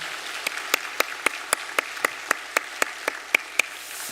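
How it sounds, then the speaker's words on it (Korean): A church congregation claps in steady unison to welcome new families, about fourteen evenly spaced sharp claps over a soft bed of scattered clapping, with no talking over it. "우리 박수로 환영하도록 하겠습니다."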